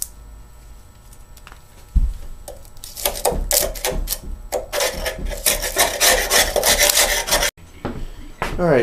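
A hand scraper works over a push mower deck in quick, rough strokes, loud rasping scrapes in rapid bursts that start after a quiet moment and a thump, continuing densely to the end.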